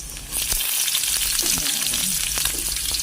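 Garlic and onion frying in a pan for miswa with patola, a dense sizzle that jumps louder as the onion goes in, with scattered spoon taps and scrapes over the steady hiss.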